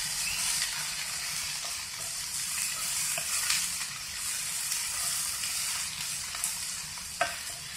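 Spring onion greens sizzle steadily while sautéed in a pan for Khandeshi baingan bharit, a continuous close frying hiss with faint stirring clicks and no talk.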